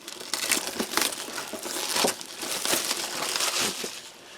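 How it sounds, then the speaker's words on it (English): Cellophane wrap is peeled and torn off a camouflage-patterned Russian single-meal ration box, giving close, continuous crinkling and crackling with sharper tearing bursts throughout. "simple camouflage looking box in a cellophane wrap, so we'll just take the wrapping off"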